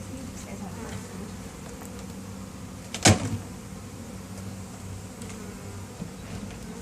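Bees from a newly settled hive in a bee garden hum and buzz softly and continuously close by, with one sharp knock or bump partway through.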